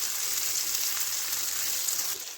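Chicken fillets sizzle steadily in a pan, a continuous close hiss of frying that stays even throughout with no talking.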